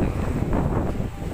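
Wind blows steadily across the microphone at an office building compound, a loud, rough rushing that fills the whole short stretch.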